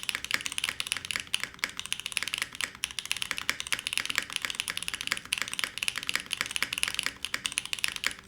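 Steady, rapid keystrokes on a SAT75 X mechanical keyboard with foam, muted and soft-edged, clattering continuously at close range with no one speaking.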